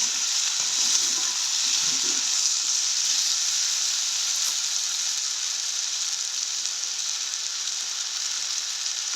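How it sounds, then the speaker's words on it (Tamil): Tomatoes sauté in a hot pan, a steady, close sizzle of frying with faint scrapes of stirring throughout and no talking. "ஒருக்கா கலந்து விடுவேன்."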